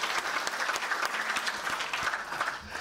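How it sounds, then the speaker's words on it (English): A lecture audience applauding steadily, dense clapping at moderate loudness that carries on throughout and thins slightly at the end. "Shall we give a big round of applause to the man?"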